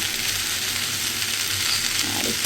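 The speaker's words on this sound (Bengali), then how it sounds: "আলু আর পেঁয়াজটা ভালো মতো ভাজা হয়ে এসেছে" Potatoes and onions fry in a pan in a steady, close hiss and crackle that runs unbroken throughout, with no voices over it.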